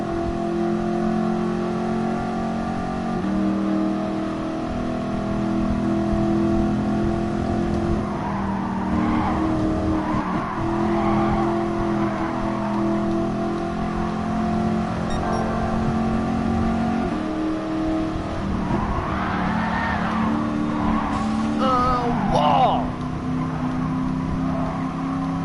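Race cars in a racing video game rev and drone steadily throughout, with engine pitch rising and falling and occasional tire squeals and skids partway through, continuous and loud with no talking.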